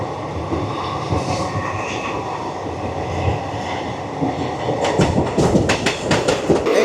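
Katra to Srinagar train running through tunnel T34, a loud enclosed rumble with clattering wheels that grows busier and sharper toward the end, with rapid clacks and faint squeals.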